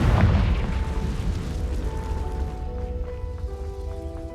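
A Confringo blasting spell goes off in Hogwarts Legacy: a deep booming burst at the start, then rumbling debris and ringing magical tones that slowly fade, with no voices.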